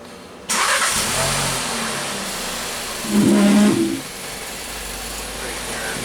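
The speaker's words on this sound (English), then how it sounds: "we're going to start it up and rev it up and see if this pulse width changes" A 2014 VW Jetta GDI Turbo with an intermittent misfire and low power cranks and starts abruptly, settles into a steady idle, then revs up briefly and drops back to idle. The engine is close and loud, and a voice speaks over it.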